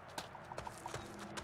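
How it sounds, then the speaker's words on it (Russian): Horse hooves in the video game Two Worlds, a quick run of clip-clop beats at a galloping rhythm, fairly close and moderately loud over a low ambient bed, with no speech. "Ну что ты, лошадка, давай, погнали, поскакали."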